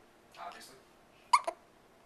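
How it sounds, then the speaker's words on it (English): A pet has the hiccups at night: two faint, brief hiccups in a quiet room, the second one sharper and followed by a quick softer catch. "This is Alexa having the hiccups."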